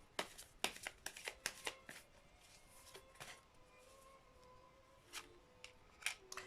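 Tarot cards are shuffled and drawn at close range, giving a burst of crisp riffling snaps followed by scattered softer flicks and slides, with no talking.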